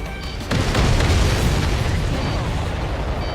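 Explosions in the Ace Combat 7 air-combat game erupt as a sudden loud boom followed by a sustained, rumbling roar of blasts and debris.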